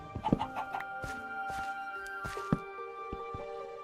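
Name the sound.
chickens clucking in Minecraft video game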